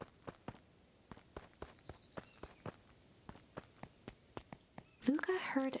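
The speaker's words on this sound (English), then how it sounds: "Luca heard a group of footsteps approaching." A group of footsteps approaches in the video game Beacon Pines, a steady run of crisp, evenly spaced steps that start faint and draw closer, then give way to a louder burst of sound at the end.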